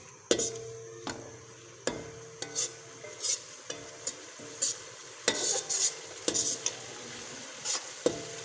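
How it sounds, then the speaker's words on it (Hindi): Coriander powder, garam masala and crushed red chili roast in a pot for chicken yakhni pulao, a spoon clanking sharply against the metal a dozen times in an uneven rhythm over a faint sizzle, with no voices. "अब हम इन्हें थोड़ा सा भूनेंगे।"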